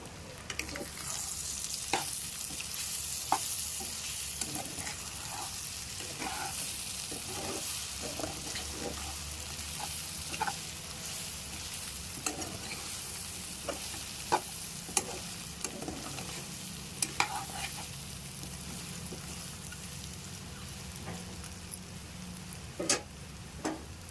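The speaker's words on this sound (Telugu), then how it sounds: "ఒకసారి మొత్తం పూర్తిగా కలుపుకుందాం" Mutton roast curry with coriander powder and garam masala sizzles in a pot while a spoon scrapes and stirs in repeated strokes, steady and close with no talking.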